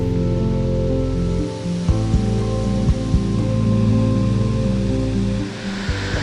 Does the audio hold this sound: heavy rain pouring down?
yes